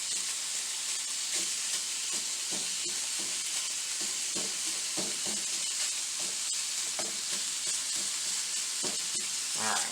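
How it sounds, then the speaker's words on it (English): Sausage sizzles steadily in a hot pan, with a constant loud frying hiss and repeated scraping knocks as the meat is broken up and stirred, close by with no voices. "you're just going to try to cook the sausage, break up the sausage and cook it until it's browned"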